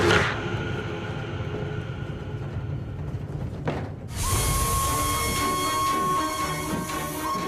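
A train runs along the rails with a steady rumbling roll and a hiss, the sound brightening and growing louder partway through, with no voices.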